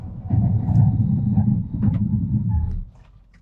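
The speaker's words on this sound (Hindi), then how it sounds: "देखो लो स्पीड पे ब्रेक कर रही है कार" A 2024 Kia Sonet braking at low speed, a close, low rumble of road and engine noise that fades as the car slows and settles to near quiet.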